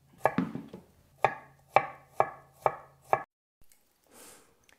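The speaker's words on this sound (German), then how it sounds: "Und für meine Füllung hacke ich mir jetzt eine Zwiebel und schon mal eine Knoblauchzehe." A knife chops an onion and a garlic clove on a cutting board for a filling: about seven sharp, distinct knocks in an uneven rhythm, close and alone, with a soft rustle at the end.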